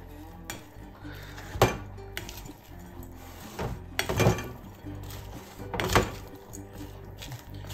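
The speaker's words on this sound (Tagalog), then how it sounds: "Kailangan po halo-halo para mag-mix ng maayos." Utensils scrape and clink against a pan as crispy sisig liempo is stirred, with a few sharper metallic knocks standing out from a steady background of low kitchen clatter.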